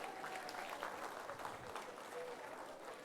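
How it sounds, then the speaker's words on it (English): A conference audience at a national HR convention gives steady applause, a soft, distant wash of clapping that holds evenly for a few seconds in a large hall. "Give a big round of applause to everyone."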